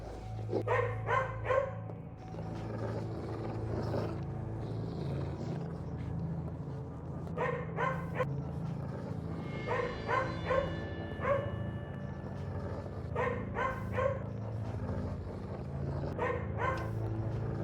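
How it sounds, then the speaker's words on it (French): Repeated bursts of dog barking in the horror video game Nightmare Shift, clusters of sharp woofs and yips recurring throughout over a low droning game ambience, moderately loud, with no speech. "Ok, on a un chien."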